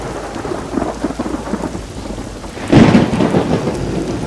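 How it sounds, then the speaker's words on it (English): Heavy rain pours steadily over a lake while thunder rumbles, swelling into a louder crack and roll near the end. "It started raining and pouring in the middle of the lake."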